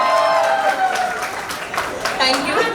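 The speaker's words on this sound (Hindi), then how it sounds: "प्लीज जोरदार तालियां इनको" Guests at a sangeet ceremony break into applause, a scattered patter of clapping heard under someone talking.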